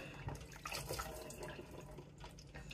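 A kitchen tap runs into a sink while seafood is rinsed under it, a soft continuous splashing with a few brief clatters and drips, fairly quiet and close.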